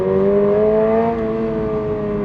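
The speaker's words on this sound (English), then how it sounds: "see what it sounds like when we really give it some revs" A Toyota GR86 sports car's engine revs hard and loud, a steady rising drone with strong harmonics that dips slightly midway as it settles, continuous with no talking over it.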